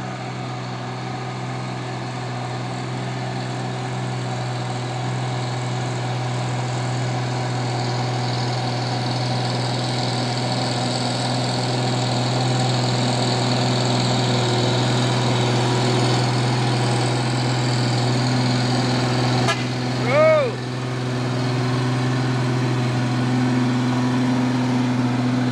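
A brown Fuso truck's engine idles in stalled traffic, a steady low diesel hum close by, with a brief higher whine rising near the end.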